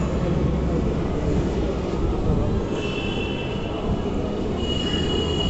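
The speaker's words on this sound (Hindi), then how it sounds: "मुझे मेट्रो दिख रही है, मेट्रो आ गई है" A Kolkata metro train rumbles into a crowded station steadily with loud rolling noise, and high metallic wheel squeals rise near the end as it approaches.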